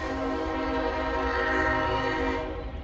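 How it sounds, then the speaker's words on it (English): A train horn blown by a conductor, one long, loud, sustained blast with a rich chord of steady tones, close by and heard alone. "We have a train conductor who's a little happy with his horn"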